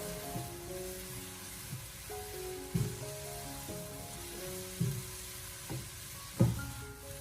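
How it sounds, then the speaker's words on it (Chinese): Carrot and egg stir-fried in a wok over high heat: a quiet, continuous sizzle broken by periodic scraping tosses of the spatula about once a second, close, with no talking. "最后再大火翻炒出锅气"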